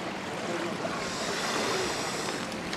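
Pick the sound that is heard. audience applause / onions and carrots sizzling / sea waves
sea waves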